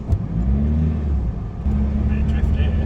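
A van's engine rumbles low and steady as it drives an arctic winter road, with a brief rise in revs, and people talk over it.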